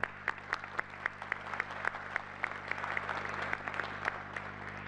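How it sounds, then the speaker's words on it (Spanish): Audience applause for the author at a discussion session, a crowd clapping at a steady, moderately distant level throughout, with sharper individual claps standing out over the dense patter and a low hum underneath. "Un aplauso,"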